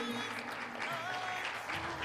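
Audience applause at a book presentation event, steady sustained clapping from a crowd throughout, with some voices mixed in underneath.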